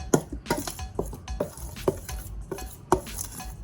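Breading powder mixed by hand into shrimp in a bowl for coconut crust butterfly shrimp, a series of irregular soft thumps and rustling knocks against the container, close and sporadic, with no talk.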